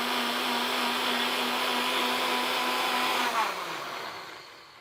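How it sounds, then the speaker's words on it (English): Kitchen blender whizzing tomatoes for a prawn bunny chow, a steady loud whirring drone that runs evenly for several seconds before the motor pitch drops and winds down near the end. "Let's close it up and let's blend our tomatoes."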